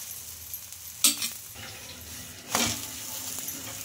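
Chickpea dosa frying in oil on a pan gives a soft, steady sizzle, broken by two sharper bursts of crackling as the dosa is flipped and more oil goes in.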